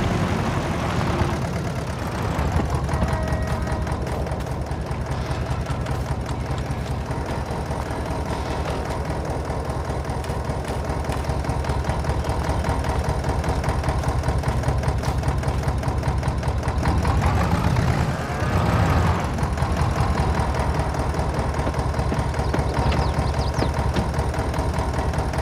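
A tractor engine idles in Farming Simulator 22, a continuous loud mechanical drone with a fast, rattling pulse that holds steady, shifting briefly near the end before settling back.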